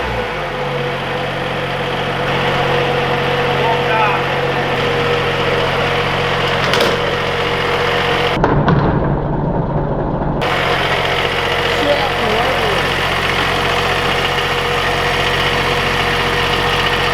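A turbocharged three-cylinder diesel engine on a Walker mower go-kart runs steadily at a rough, low idle, loud and close, with a short muffled break partway through. No one speaks.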